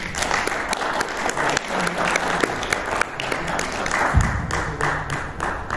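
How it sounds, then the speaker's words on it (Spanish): Audience applause at a book presentation in a Mexican cultural venue, a steady, dense clapping from a room full of people lasting the whole stretch, close and fairly loud with no speech over it. "Un aplauso, por favor."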